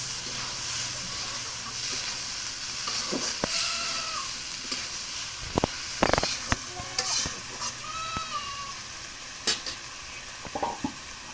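Greens tossed into sautéed potatoes in a pan, a continuous hissing fry broken by irregular scrapes and clatters of a spatula, with faint background voices and a rural ambience.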